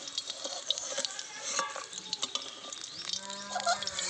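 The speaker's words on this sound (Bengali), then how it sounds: "হয়ে গেছে রসুন আর লঙ্কা ভাজা, এবার তুলে নেব" Garlic and chillies fry in hot oil in a pan while being stirred, giving a soft continuous sizzle with scraping and clinks of the spoon, fairly quiet and close.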